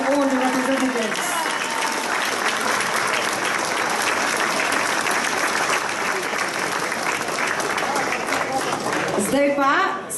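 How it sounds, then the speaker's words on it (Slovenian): Warm, dense audience applause at the official opening ceremony of a European festival, steady and loud for about nine seconds. Brief voices and tones are heard at the start and the end. "Please give a round of applause, warm applause to all the representatives."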